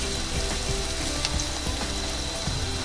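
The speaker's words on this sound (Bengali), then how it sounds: "একটু গরম হতে দিয়ে দিচ্ছি পেঁয়াজ কুচি 1/2 কাপ।" Finely chopped onions, about half a cup, fry in hot oil in a pan for chicken curry, giving a steady, dense sizzle that stays loud and even throughout, with light stirring taps and no talking.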